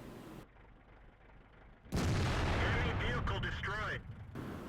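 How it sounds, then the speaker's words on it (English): An artillery shell fired and striking a tank in World of Tanks, a sudden heavy boom after a quiet stretch, followed by a loud rumbling tail with ringing metallic tones, under a voice talking. "He got himself killed spotting Mr. Jedi in order for artillery to be able to take the shot."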